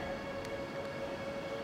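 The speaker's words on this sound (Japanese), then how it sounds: "まもなく1番線にライナー出町柳行きが8両で到着します" A Keihan 8000 series eight-car train arrives at Sanjo station, rumbling steadily with a low continuous roar and a faint sustained tone, heard from a platform at moderate distance.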